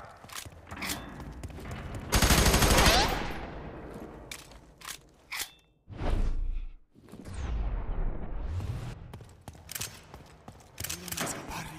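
Gunfire in the video game F.E.A.R. 3, with heavy bursts of automatic shots, booming impacts and whooshes that come and go in loud waves between quieter gaps.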